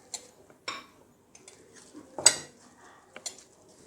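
Dry flour, cornflour and rice flour mixed in a bowl, giving a few scattered clinks and scrapes of a spoon against the bowl, faint and close, with quiet gaps between strokes.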